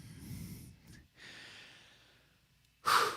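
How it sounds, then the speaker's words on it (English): Heavy, deliberate breaths, a loud snorting exhale through the nose, then a drawn-out breath and a sharp gust at the end, close to the microphone. "Are you trying to control your breathing again?"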